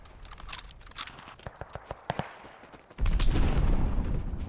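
Gunfire in Call of Duty Vanguard: a run of distinct sharp shots in an uneven rhythm, then a heavy, sustained roar of battle noise that fills the rest of the moment.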